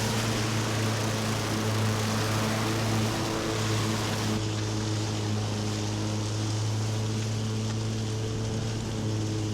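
Lawn mower running with a leaf collection system, blades blowing leaves up into the collector; a steady loud engine drone with a constant rushing air roar throughout, no voices.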